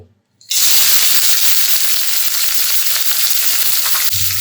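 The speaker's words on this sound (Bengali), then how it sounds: "তেলের মধ্যে ছাড়িয়ে দিয়ে কাঁড়া কয়টা বাজিয়ে নেব" Pieces of food drop into hot oil in a frying pan and erupt into a loud, sudden sizzle after a brief silence, then crackle and hiss steadily up close.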